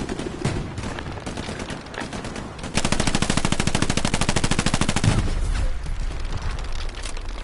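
A machine gun fires in the World War II shooter Hell Let Loose, with scattered shots first and then a long, steady, rapid burst of evenly spaced rounds before it trails off.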